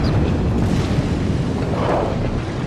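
Secondary guns on an American Iowa-class battleship in a naval combat game, a continuous heavy low rumble of booming fire and blast wash that stays loud throughout without clear separate shots.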